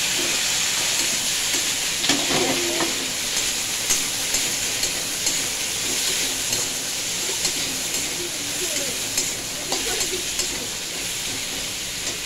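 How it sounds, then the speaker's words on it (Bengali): Potato and ridge gourd pieces land in a frying pan of browned onion and sizzle loudly and continuously, with small bursts of crackle and what may be a faint voice in the background. "এখন আমি আলু ঝিঙেটা ঢেলে দিচ্ছি"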